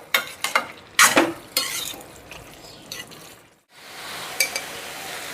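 Pumpkin halwa being stirred in a pan as it cooks, a spoon scraping and clinking in short irregular strokes over a soft sizzle, with a brief silent gap.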